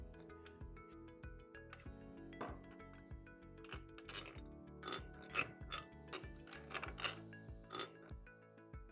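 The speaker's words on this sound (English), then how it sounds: "loosen the bolting nuts with 2 3/4-inch or adjustable wrenches on each opposing nut" Wrenches loosening bolting nuts on a LaMOT in-line flame arrestor, a quiet close-up series of metallic clinks, scrapes and ratcheting turns in irregular bursts.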